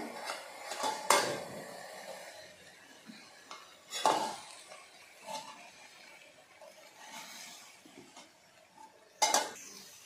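A metal pot lid is lifted off, then a spoon stirs fried onion and tomato, meant for a shahi paneer gravy. Sharp clanks sound at intervals over faint scraping and a soft sizzle.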